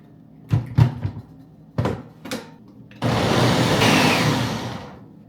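Blender blending fruit with added water for hand-squeezed juice: a few handling knocks and clunks, then a loud steady whirring roar starting midway that holds and gradually fades.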